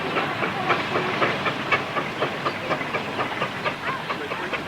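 A steam engine at the Sellindge Steam Special rally, running in poor weather, gives off a steady loud hiss cut by rhythmic chuffing beats and clanks that repeat evenly throughout. No one speaks.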